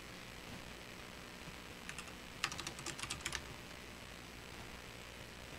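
Someone types a mind map into Notepad on a computer keyboard in a quiet room. A short, soft burst of key clicks is heard once, close by and faint over a steady low hiss.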